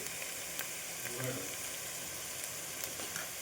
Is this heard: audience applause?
no